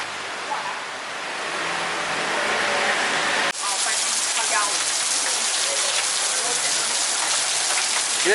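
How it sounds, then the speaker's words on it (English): Steady rain falling on a surface, a dense continuous hiss that grows louder and rougher partway through, heavy and close throughout with no talking. "it's raining again"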